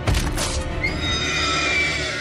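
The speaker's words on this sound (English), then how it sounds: "cuts off the front leg of Bronn's horse" A horse in a Game of Thrones battle scene lets out one loud, close neigh as its front leg is cut off, a shrill whinny trailing into a sustained cry over a low rumble.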